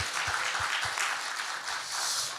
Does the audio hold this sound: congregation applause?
yes